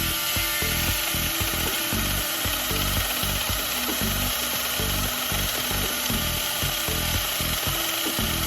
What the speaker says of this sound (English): We chopped down a tree with a chainsaw